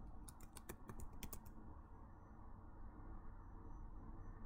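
Quick computer keyboard typing, a rapid run of close, crisp key clicks lasting about a second and a half before stopping, over a steady low background hum.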